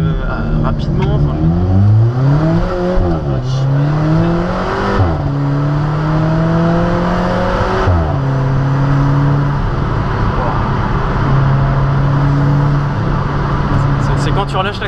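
An Alfa Romeo 4C Spider's turbocharged engine pulls hard through the gears, its rising note climbing and dropping at each shift before settling into a steady drone, heard from inside the car with someone talking over it.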